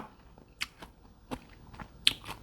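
Close crunchy chewing of a meal of fermented-fish chili dip with boiled chili, stir-fried morning glory and fresh raw vegetables, with a few sharp bites and crunches spaced irregularly and soft mouth sounds between, no talking.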